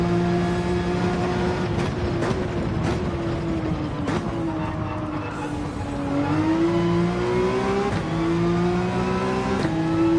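All-wheel drive race car engine in Gran Turismo 7 at the Red Bull Ring, a loud continuous drone whose pitch climbs and dips through gear changes as it accelerates, with other engines layered underneath.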